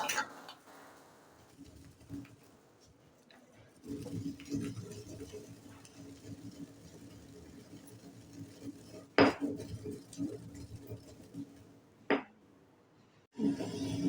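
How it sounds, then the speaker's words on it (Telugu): Fried fenugreek and cumin pounded in a small stone mortar for a gongura pickle spice powder, giving repeated hard knocks and scraping clatter, with sharp louder strikes scattered through and over quiet background sound. "మిక్సీలో ఏ రాదు అని ఇలా చిన్న రోట్లో దంచుతున్నా"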